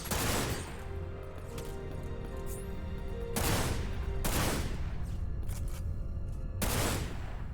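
Gunfire rings out in the Dirge of Cerberus video game, several sharp, loud broadband blasts at irregular intervals over a busy, noisy in-game background with no talk.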